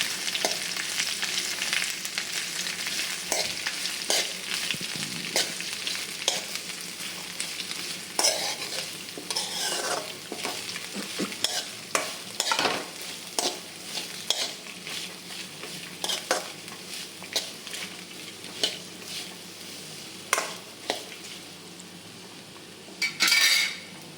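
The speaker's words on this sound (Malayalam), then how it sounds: "നമുക്ക് അരിഞ്ഞു വെച്ചിരിക്കുന്ന അമരപ്പയർ ചേർത്ത് കൊടുക്കാം ഇളക്കാം" Chopped broad beans are tossed and stirred in a pan for a Kerala thoran, a spoon scraping and clinking against the metal in a brisk irregular rhythm over a steady sizzle, with no voices.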